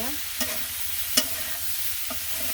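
Vegetables sautéing in a pan for a simple vegetarian village dish give a steady soft sizzle, broken by a few brief scrapes of stirring, with no one talking.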